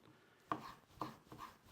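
Three sharp knife chops land on a board at an uneven pace, cutting boneless lamb and beef, each a crisp thud with a short ring, close by and with no talk.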